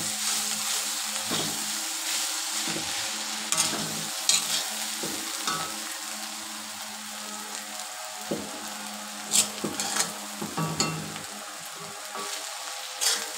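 Spiny gourd (kakrol) bhaji fries in a pan, a steady sizzle running throughout with intermittent scraping stirs and a few louder clatters, no voices present.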